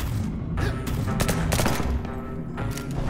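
Rapid automatic rifle gunfire from the video game Liberated, dense bursts of shots running through the whole stretch, loud and continuous with heavy low thumps beneath.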